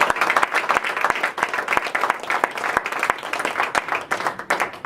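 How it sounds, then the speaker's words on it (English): Applause for an award recipient at an office party of a chiropractic wellness clinic, steady clapping from a small group sustained throughout with distinct sharp claps standing out close by. "I'd like to give her a round of applause."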